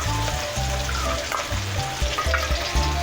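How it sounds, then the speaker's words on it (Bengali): Spices with salt, ginger and turmeric fry in oil for a prawn and taro curry, making a continuous close sizzle with low rumbling and occasional soft knocks of a spoon, no voices present. "ওগুলো আমি একটু কষে নেব, ভেজে নেব।"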